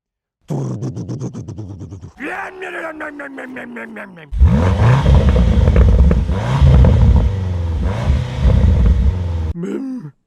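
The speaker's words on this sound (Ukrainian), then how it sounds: "А позаду тут розташовані два здвоєні патрубки активної вихлопної системи з заслінками, яка звучить." A Land Rover Defender OCTA's active valved exhaust with twin dual tailpipes barks and revs loudly up close, rising through short blips and then a sustained deep, rumbling roar before cutting off.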